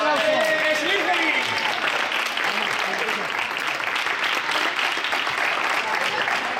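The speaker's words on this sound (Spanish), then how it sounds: "¡Un aplauso!" A crowd applauds the fourth-placed team at a treasure-hunt award event, sustained clapping over cheering voices and a loudspeaker announcer's talk at the start.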